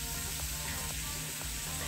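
Ivy gourd (tondli) with a little salt being mixed and fried in a pan, a continuous soft sizzle with faint periodic stirring scrapes.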